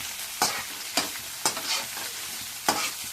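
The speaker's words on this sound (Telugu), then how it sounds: "ఒక క్యాప్సికమ్, అలాగే ఒక 1/2 క్యాబేజీ వీటి కూడా యాడ్ చేసుకోవాలి. మిక్స్ చేసుకోవాలి." Capsicum and shredded cabbage are stir-fried in a pan for fried rice, with a steady sizzle broken by four sharp scraping stirs, close and moderately loud, with no talk.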